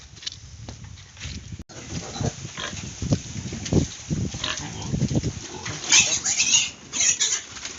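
Native piglets on a farm squealing and grunting as they are caught, with shuffling and scuffling movement; the squeals grow louder and more frequent toward the end, mostly free of talk.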